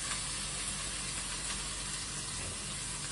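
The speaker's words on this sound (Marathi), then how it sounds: "आधी आपण अनियन हे रोस्ट करून घेऊया." Onions roast in a kadai with a steady, even sizzle and hiss of frying that holds unbroken throughout, close by with no voices.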